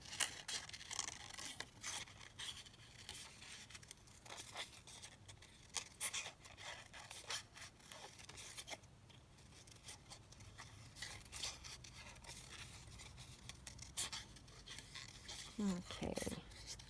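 Paper being cut out into flower shapes with scissors, a steady faint run of snipping and rustling paper handled up close through the whole stretch.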